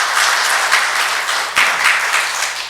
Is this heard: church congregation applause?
yes